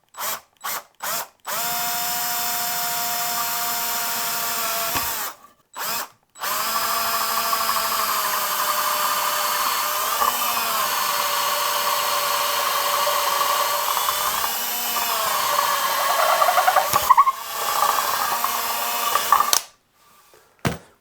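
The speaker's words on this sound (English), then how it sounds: "chucking up this massive drill bit and just working it through" A power drill with a large bit whirs loudly and continuously, pitch dipping and rising as it bores into a wooden Telecaster guitar body, with short bursts at start and finish.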